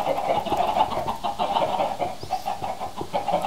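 Chickens cluck repeatedly in the video game Minecraft, a steady run of close, overlapping clucks and murmurs.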